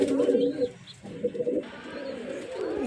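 Pigeons in a loft coo softly and close by in a brief run of low, rolling calls, with a person's voice speaking alongside.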